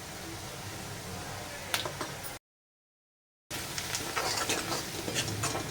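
Spices and fried onion stirred in a frying pan for dahi chicken, with soft sizzling and scraping taps from the spoon, close and quiet, briefly cut to silence midway before resuming.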